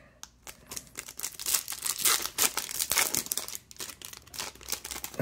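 A 2022 Topps Chrome baseball card pack is torn open, with close crinkling foil and sharp ripping bursts in irregular snatches, heard alone.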